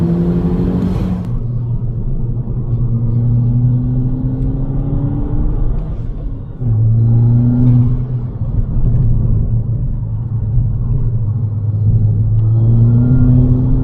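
A stage 2 MK5 Golf GTI, tuned to about 270 bhp, accelerates hard with its wheels spinning. A loud, steady engine drone climbs through the gears from inside the car, with a brief dip at a gear change.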